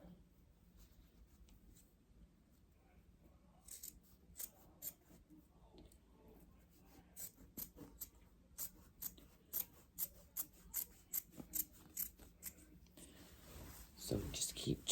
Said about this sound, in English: I'm just gonna use my regular scissors.